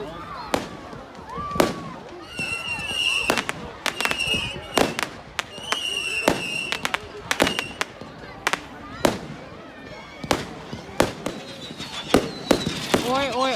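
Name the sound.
fireworks on Bonfire Night in England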